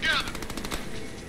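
Gunfire in the video game Deadpool: a rapid burst of close machine-gun shots that fades out, with a voice briefly underneath.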